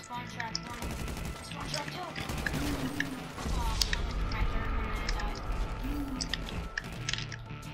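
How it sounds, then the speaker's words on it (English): Shotgun blasts in a first-person shooter land-grab match, several loud, sharp shots over continuous game noise, with players talking throughout. "that guy's using a fucking shotgun"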